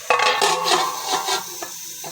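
A metal lid goes onto a pot of tomatoes cooking in a home kitchen, making clinks and clatters against the rim over a steady sizzling background, close and fairly loud.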